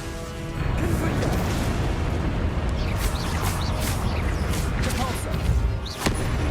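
Confringo fire-spell explosions in the Hogwarts Legacy game produce a loud, continuous rumbling blast with crackling impacts, broken by a short dip and a final thump near the end.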